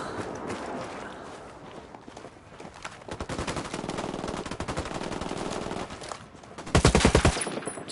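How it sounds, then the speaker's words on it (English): Gunfire in Ghost Recon Wildlands, bursts of rapid automatic shots building through the clip, with a loud dense burst close by near the end. "I'm opening fire on these shitheads."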